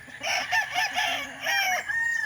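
A gamecock rooster crows nearby in several strained, raspy bursts, loud and close, with a few clucks in between.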